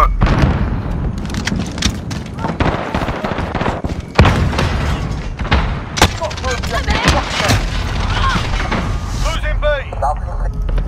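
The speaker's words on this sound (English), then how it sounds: "Too many grenades." Grenade explosions and gunfire in a Call of Duty: Modern Warfare multiplayer match, loud booms and bursts of shots going off one after another, with players talking over the chaos.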